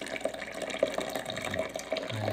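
Water running from the faucet of a new water dispenser, a steady close trickle and splash with light bubbling throughout.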